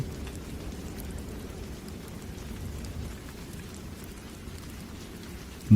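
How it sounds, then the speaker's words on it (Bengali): Steady rain falling, a dense even hiss with a low rumbling undertone that continues without break, close and moderately loud. "বৃষ্টি তখনও থামেনি।"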